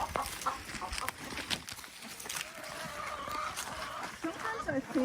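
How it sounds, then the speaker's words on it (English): A flock of named backyard chickens clucks and calls in short, busy bursts, fairly close, under steady outdoor noise and a speaking voice. "I know my chickens"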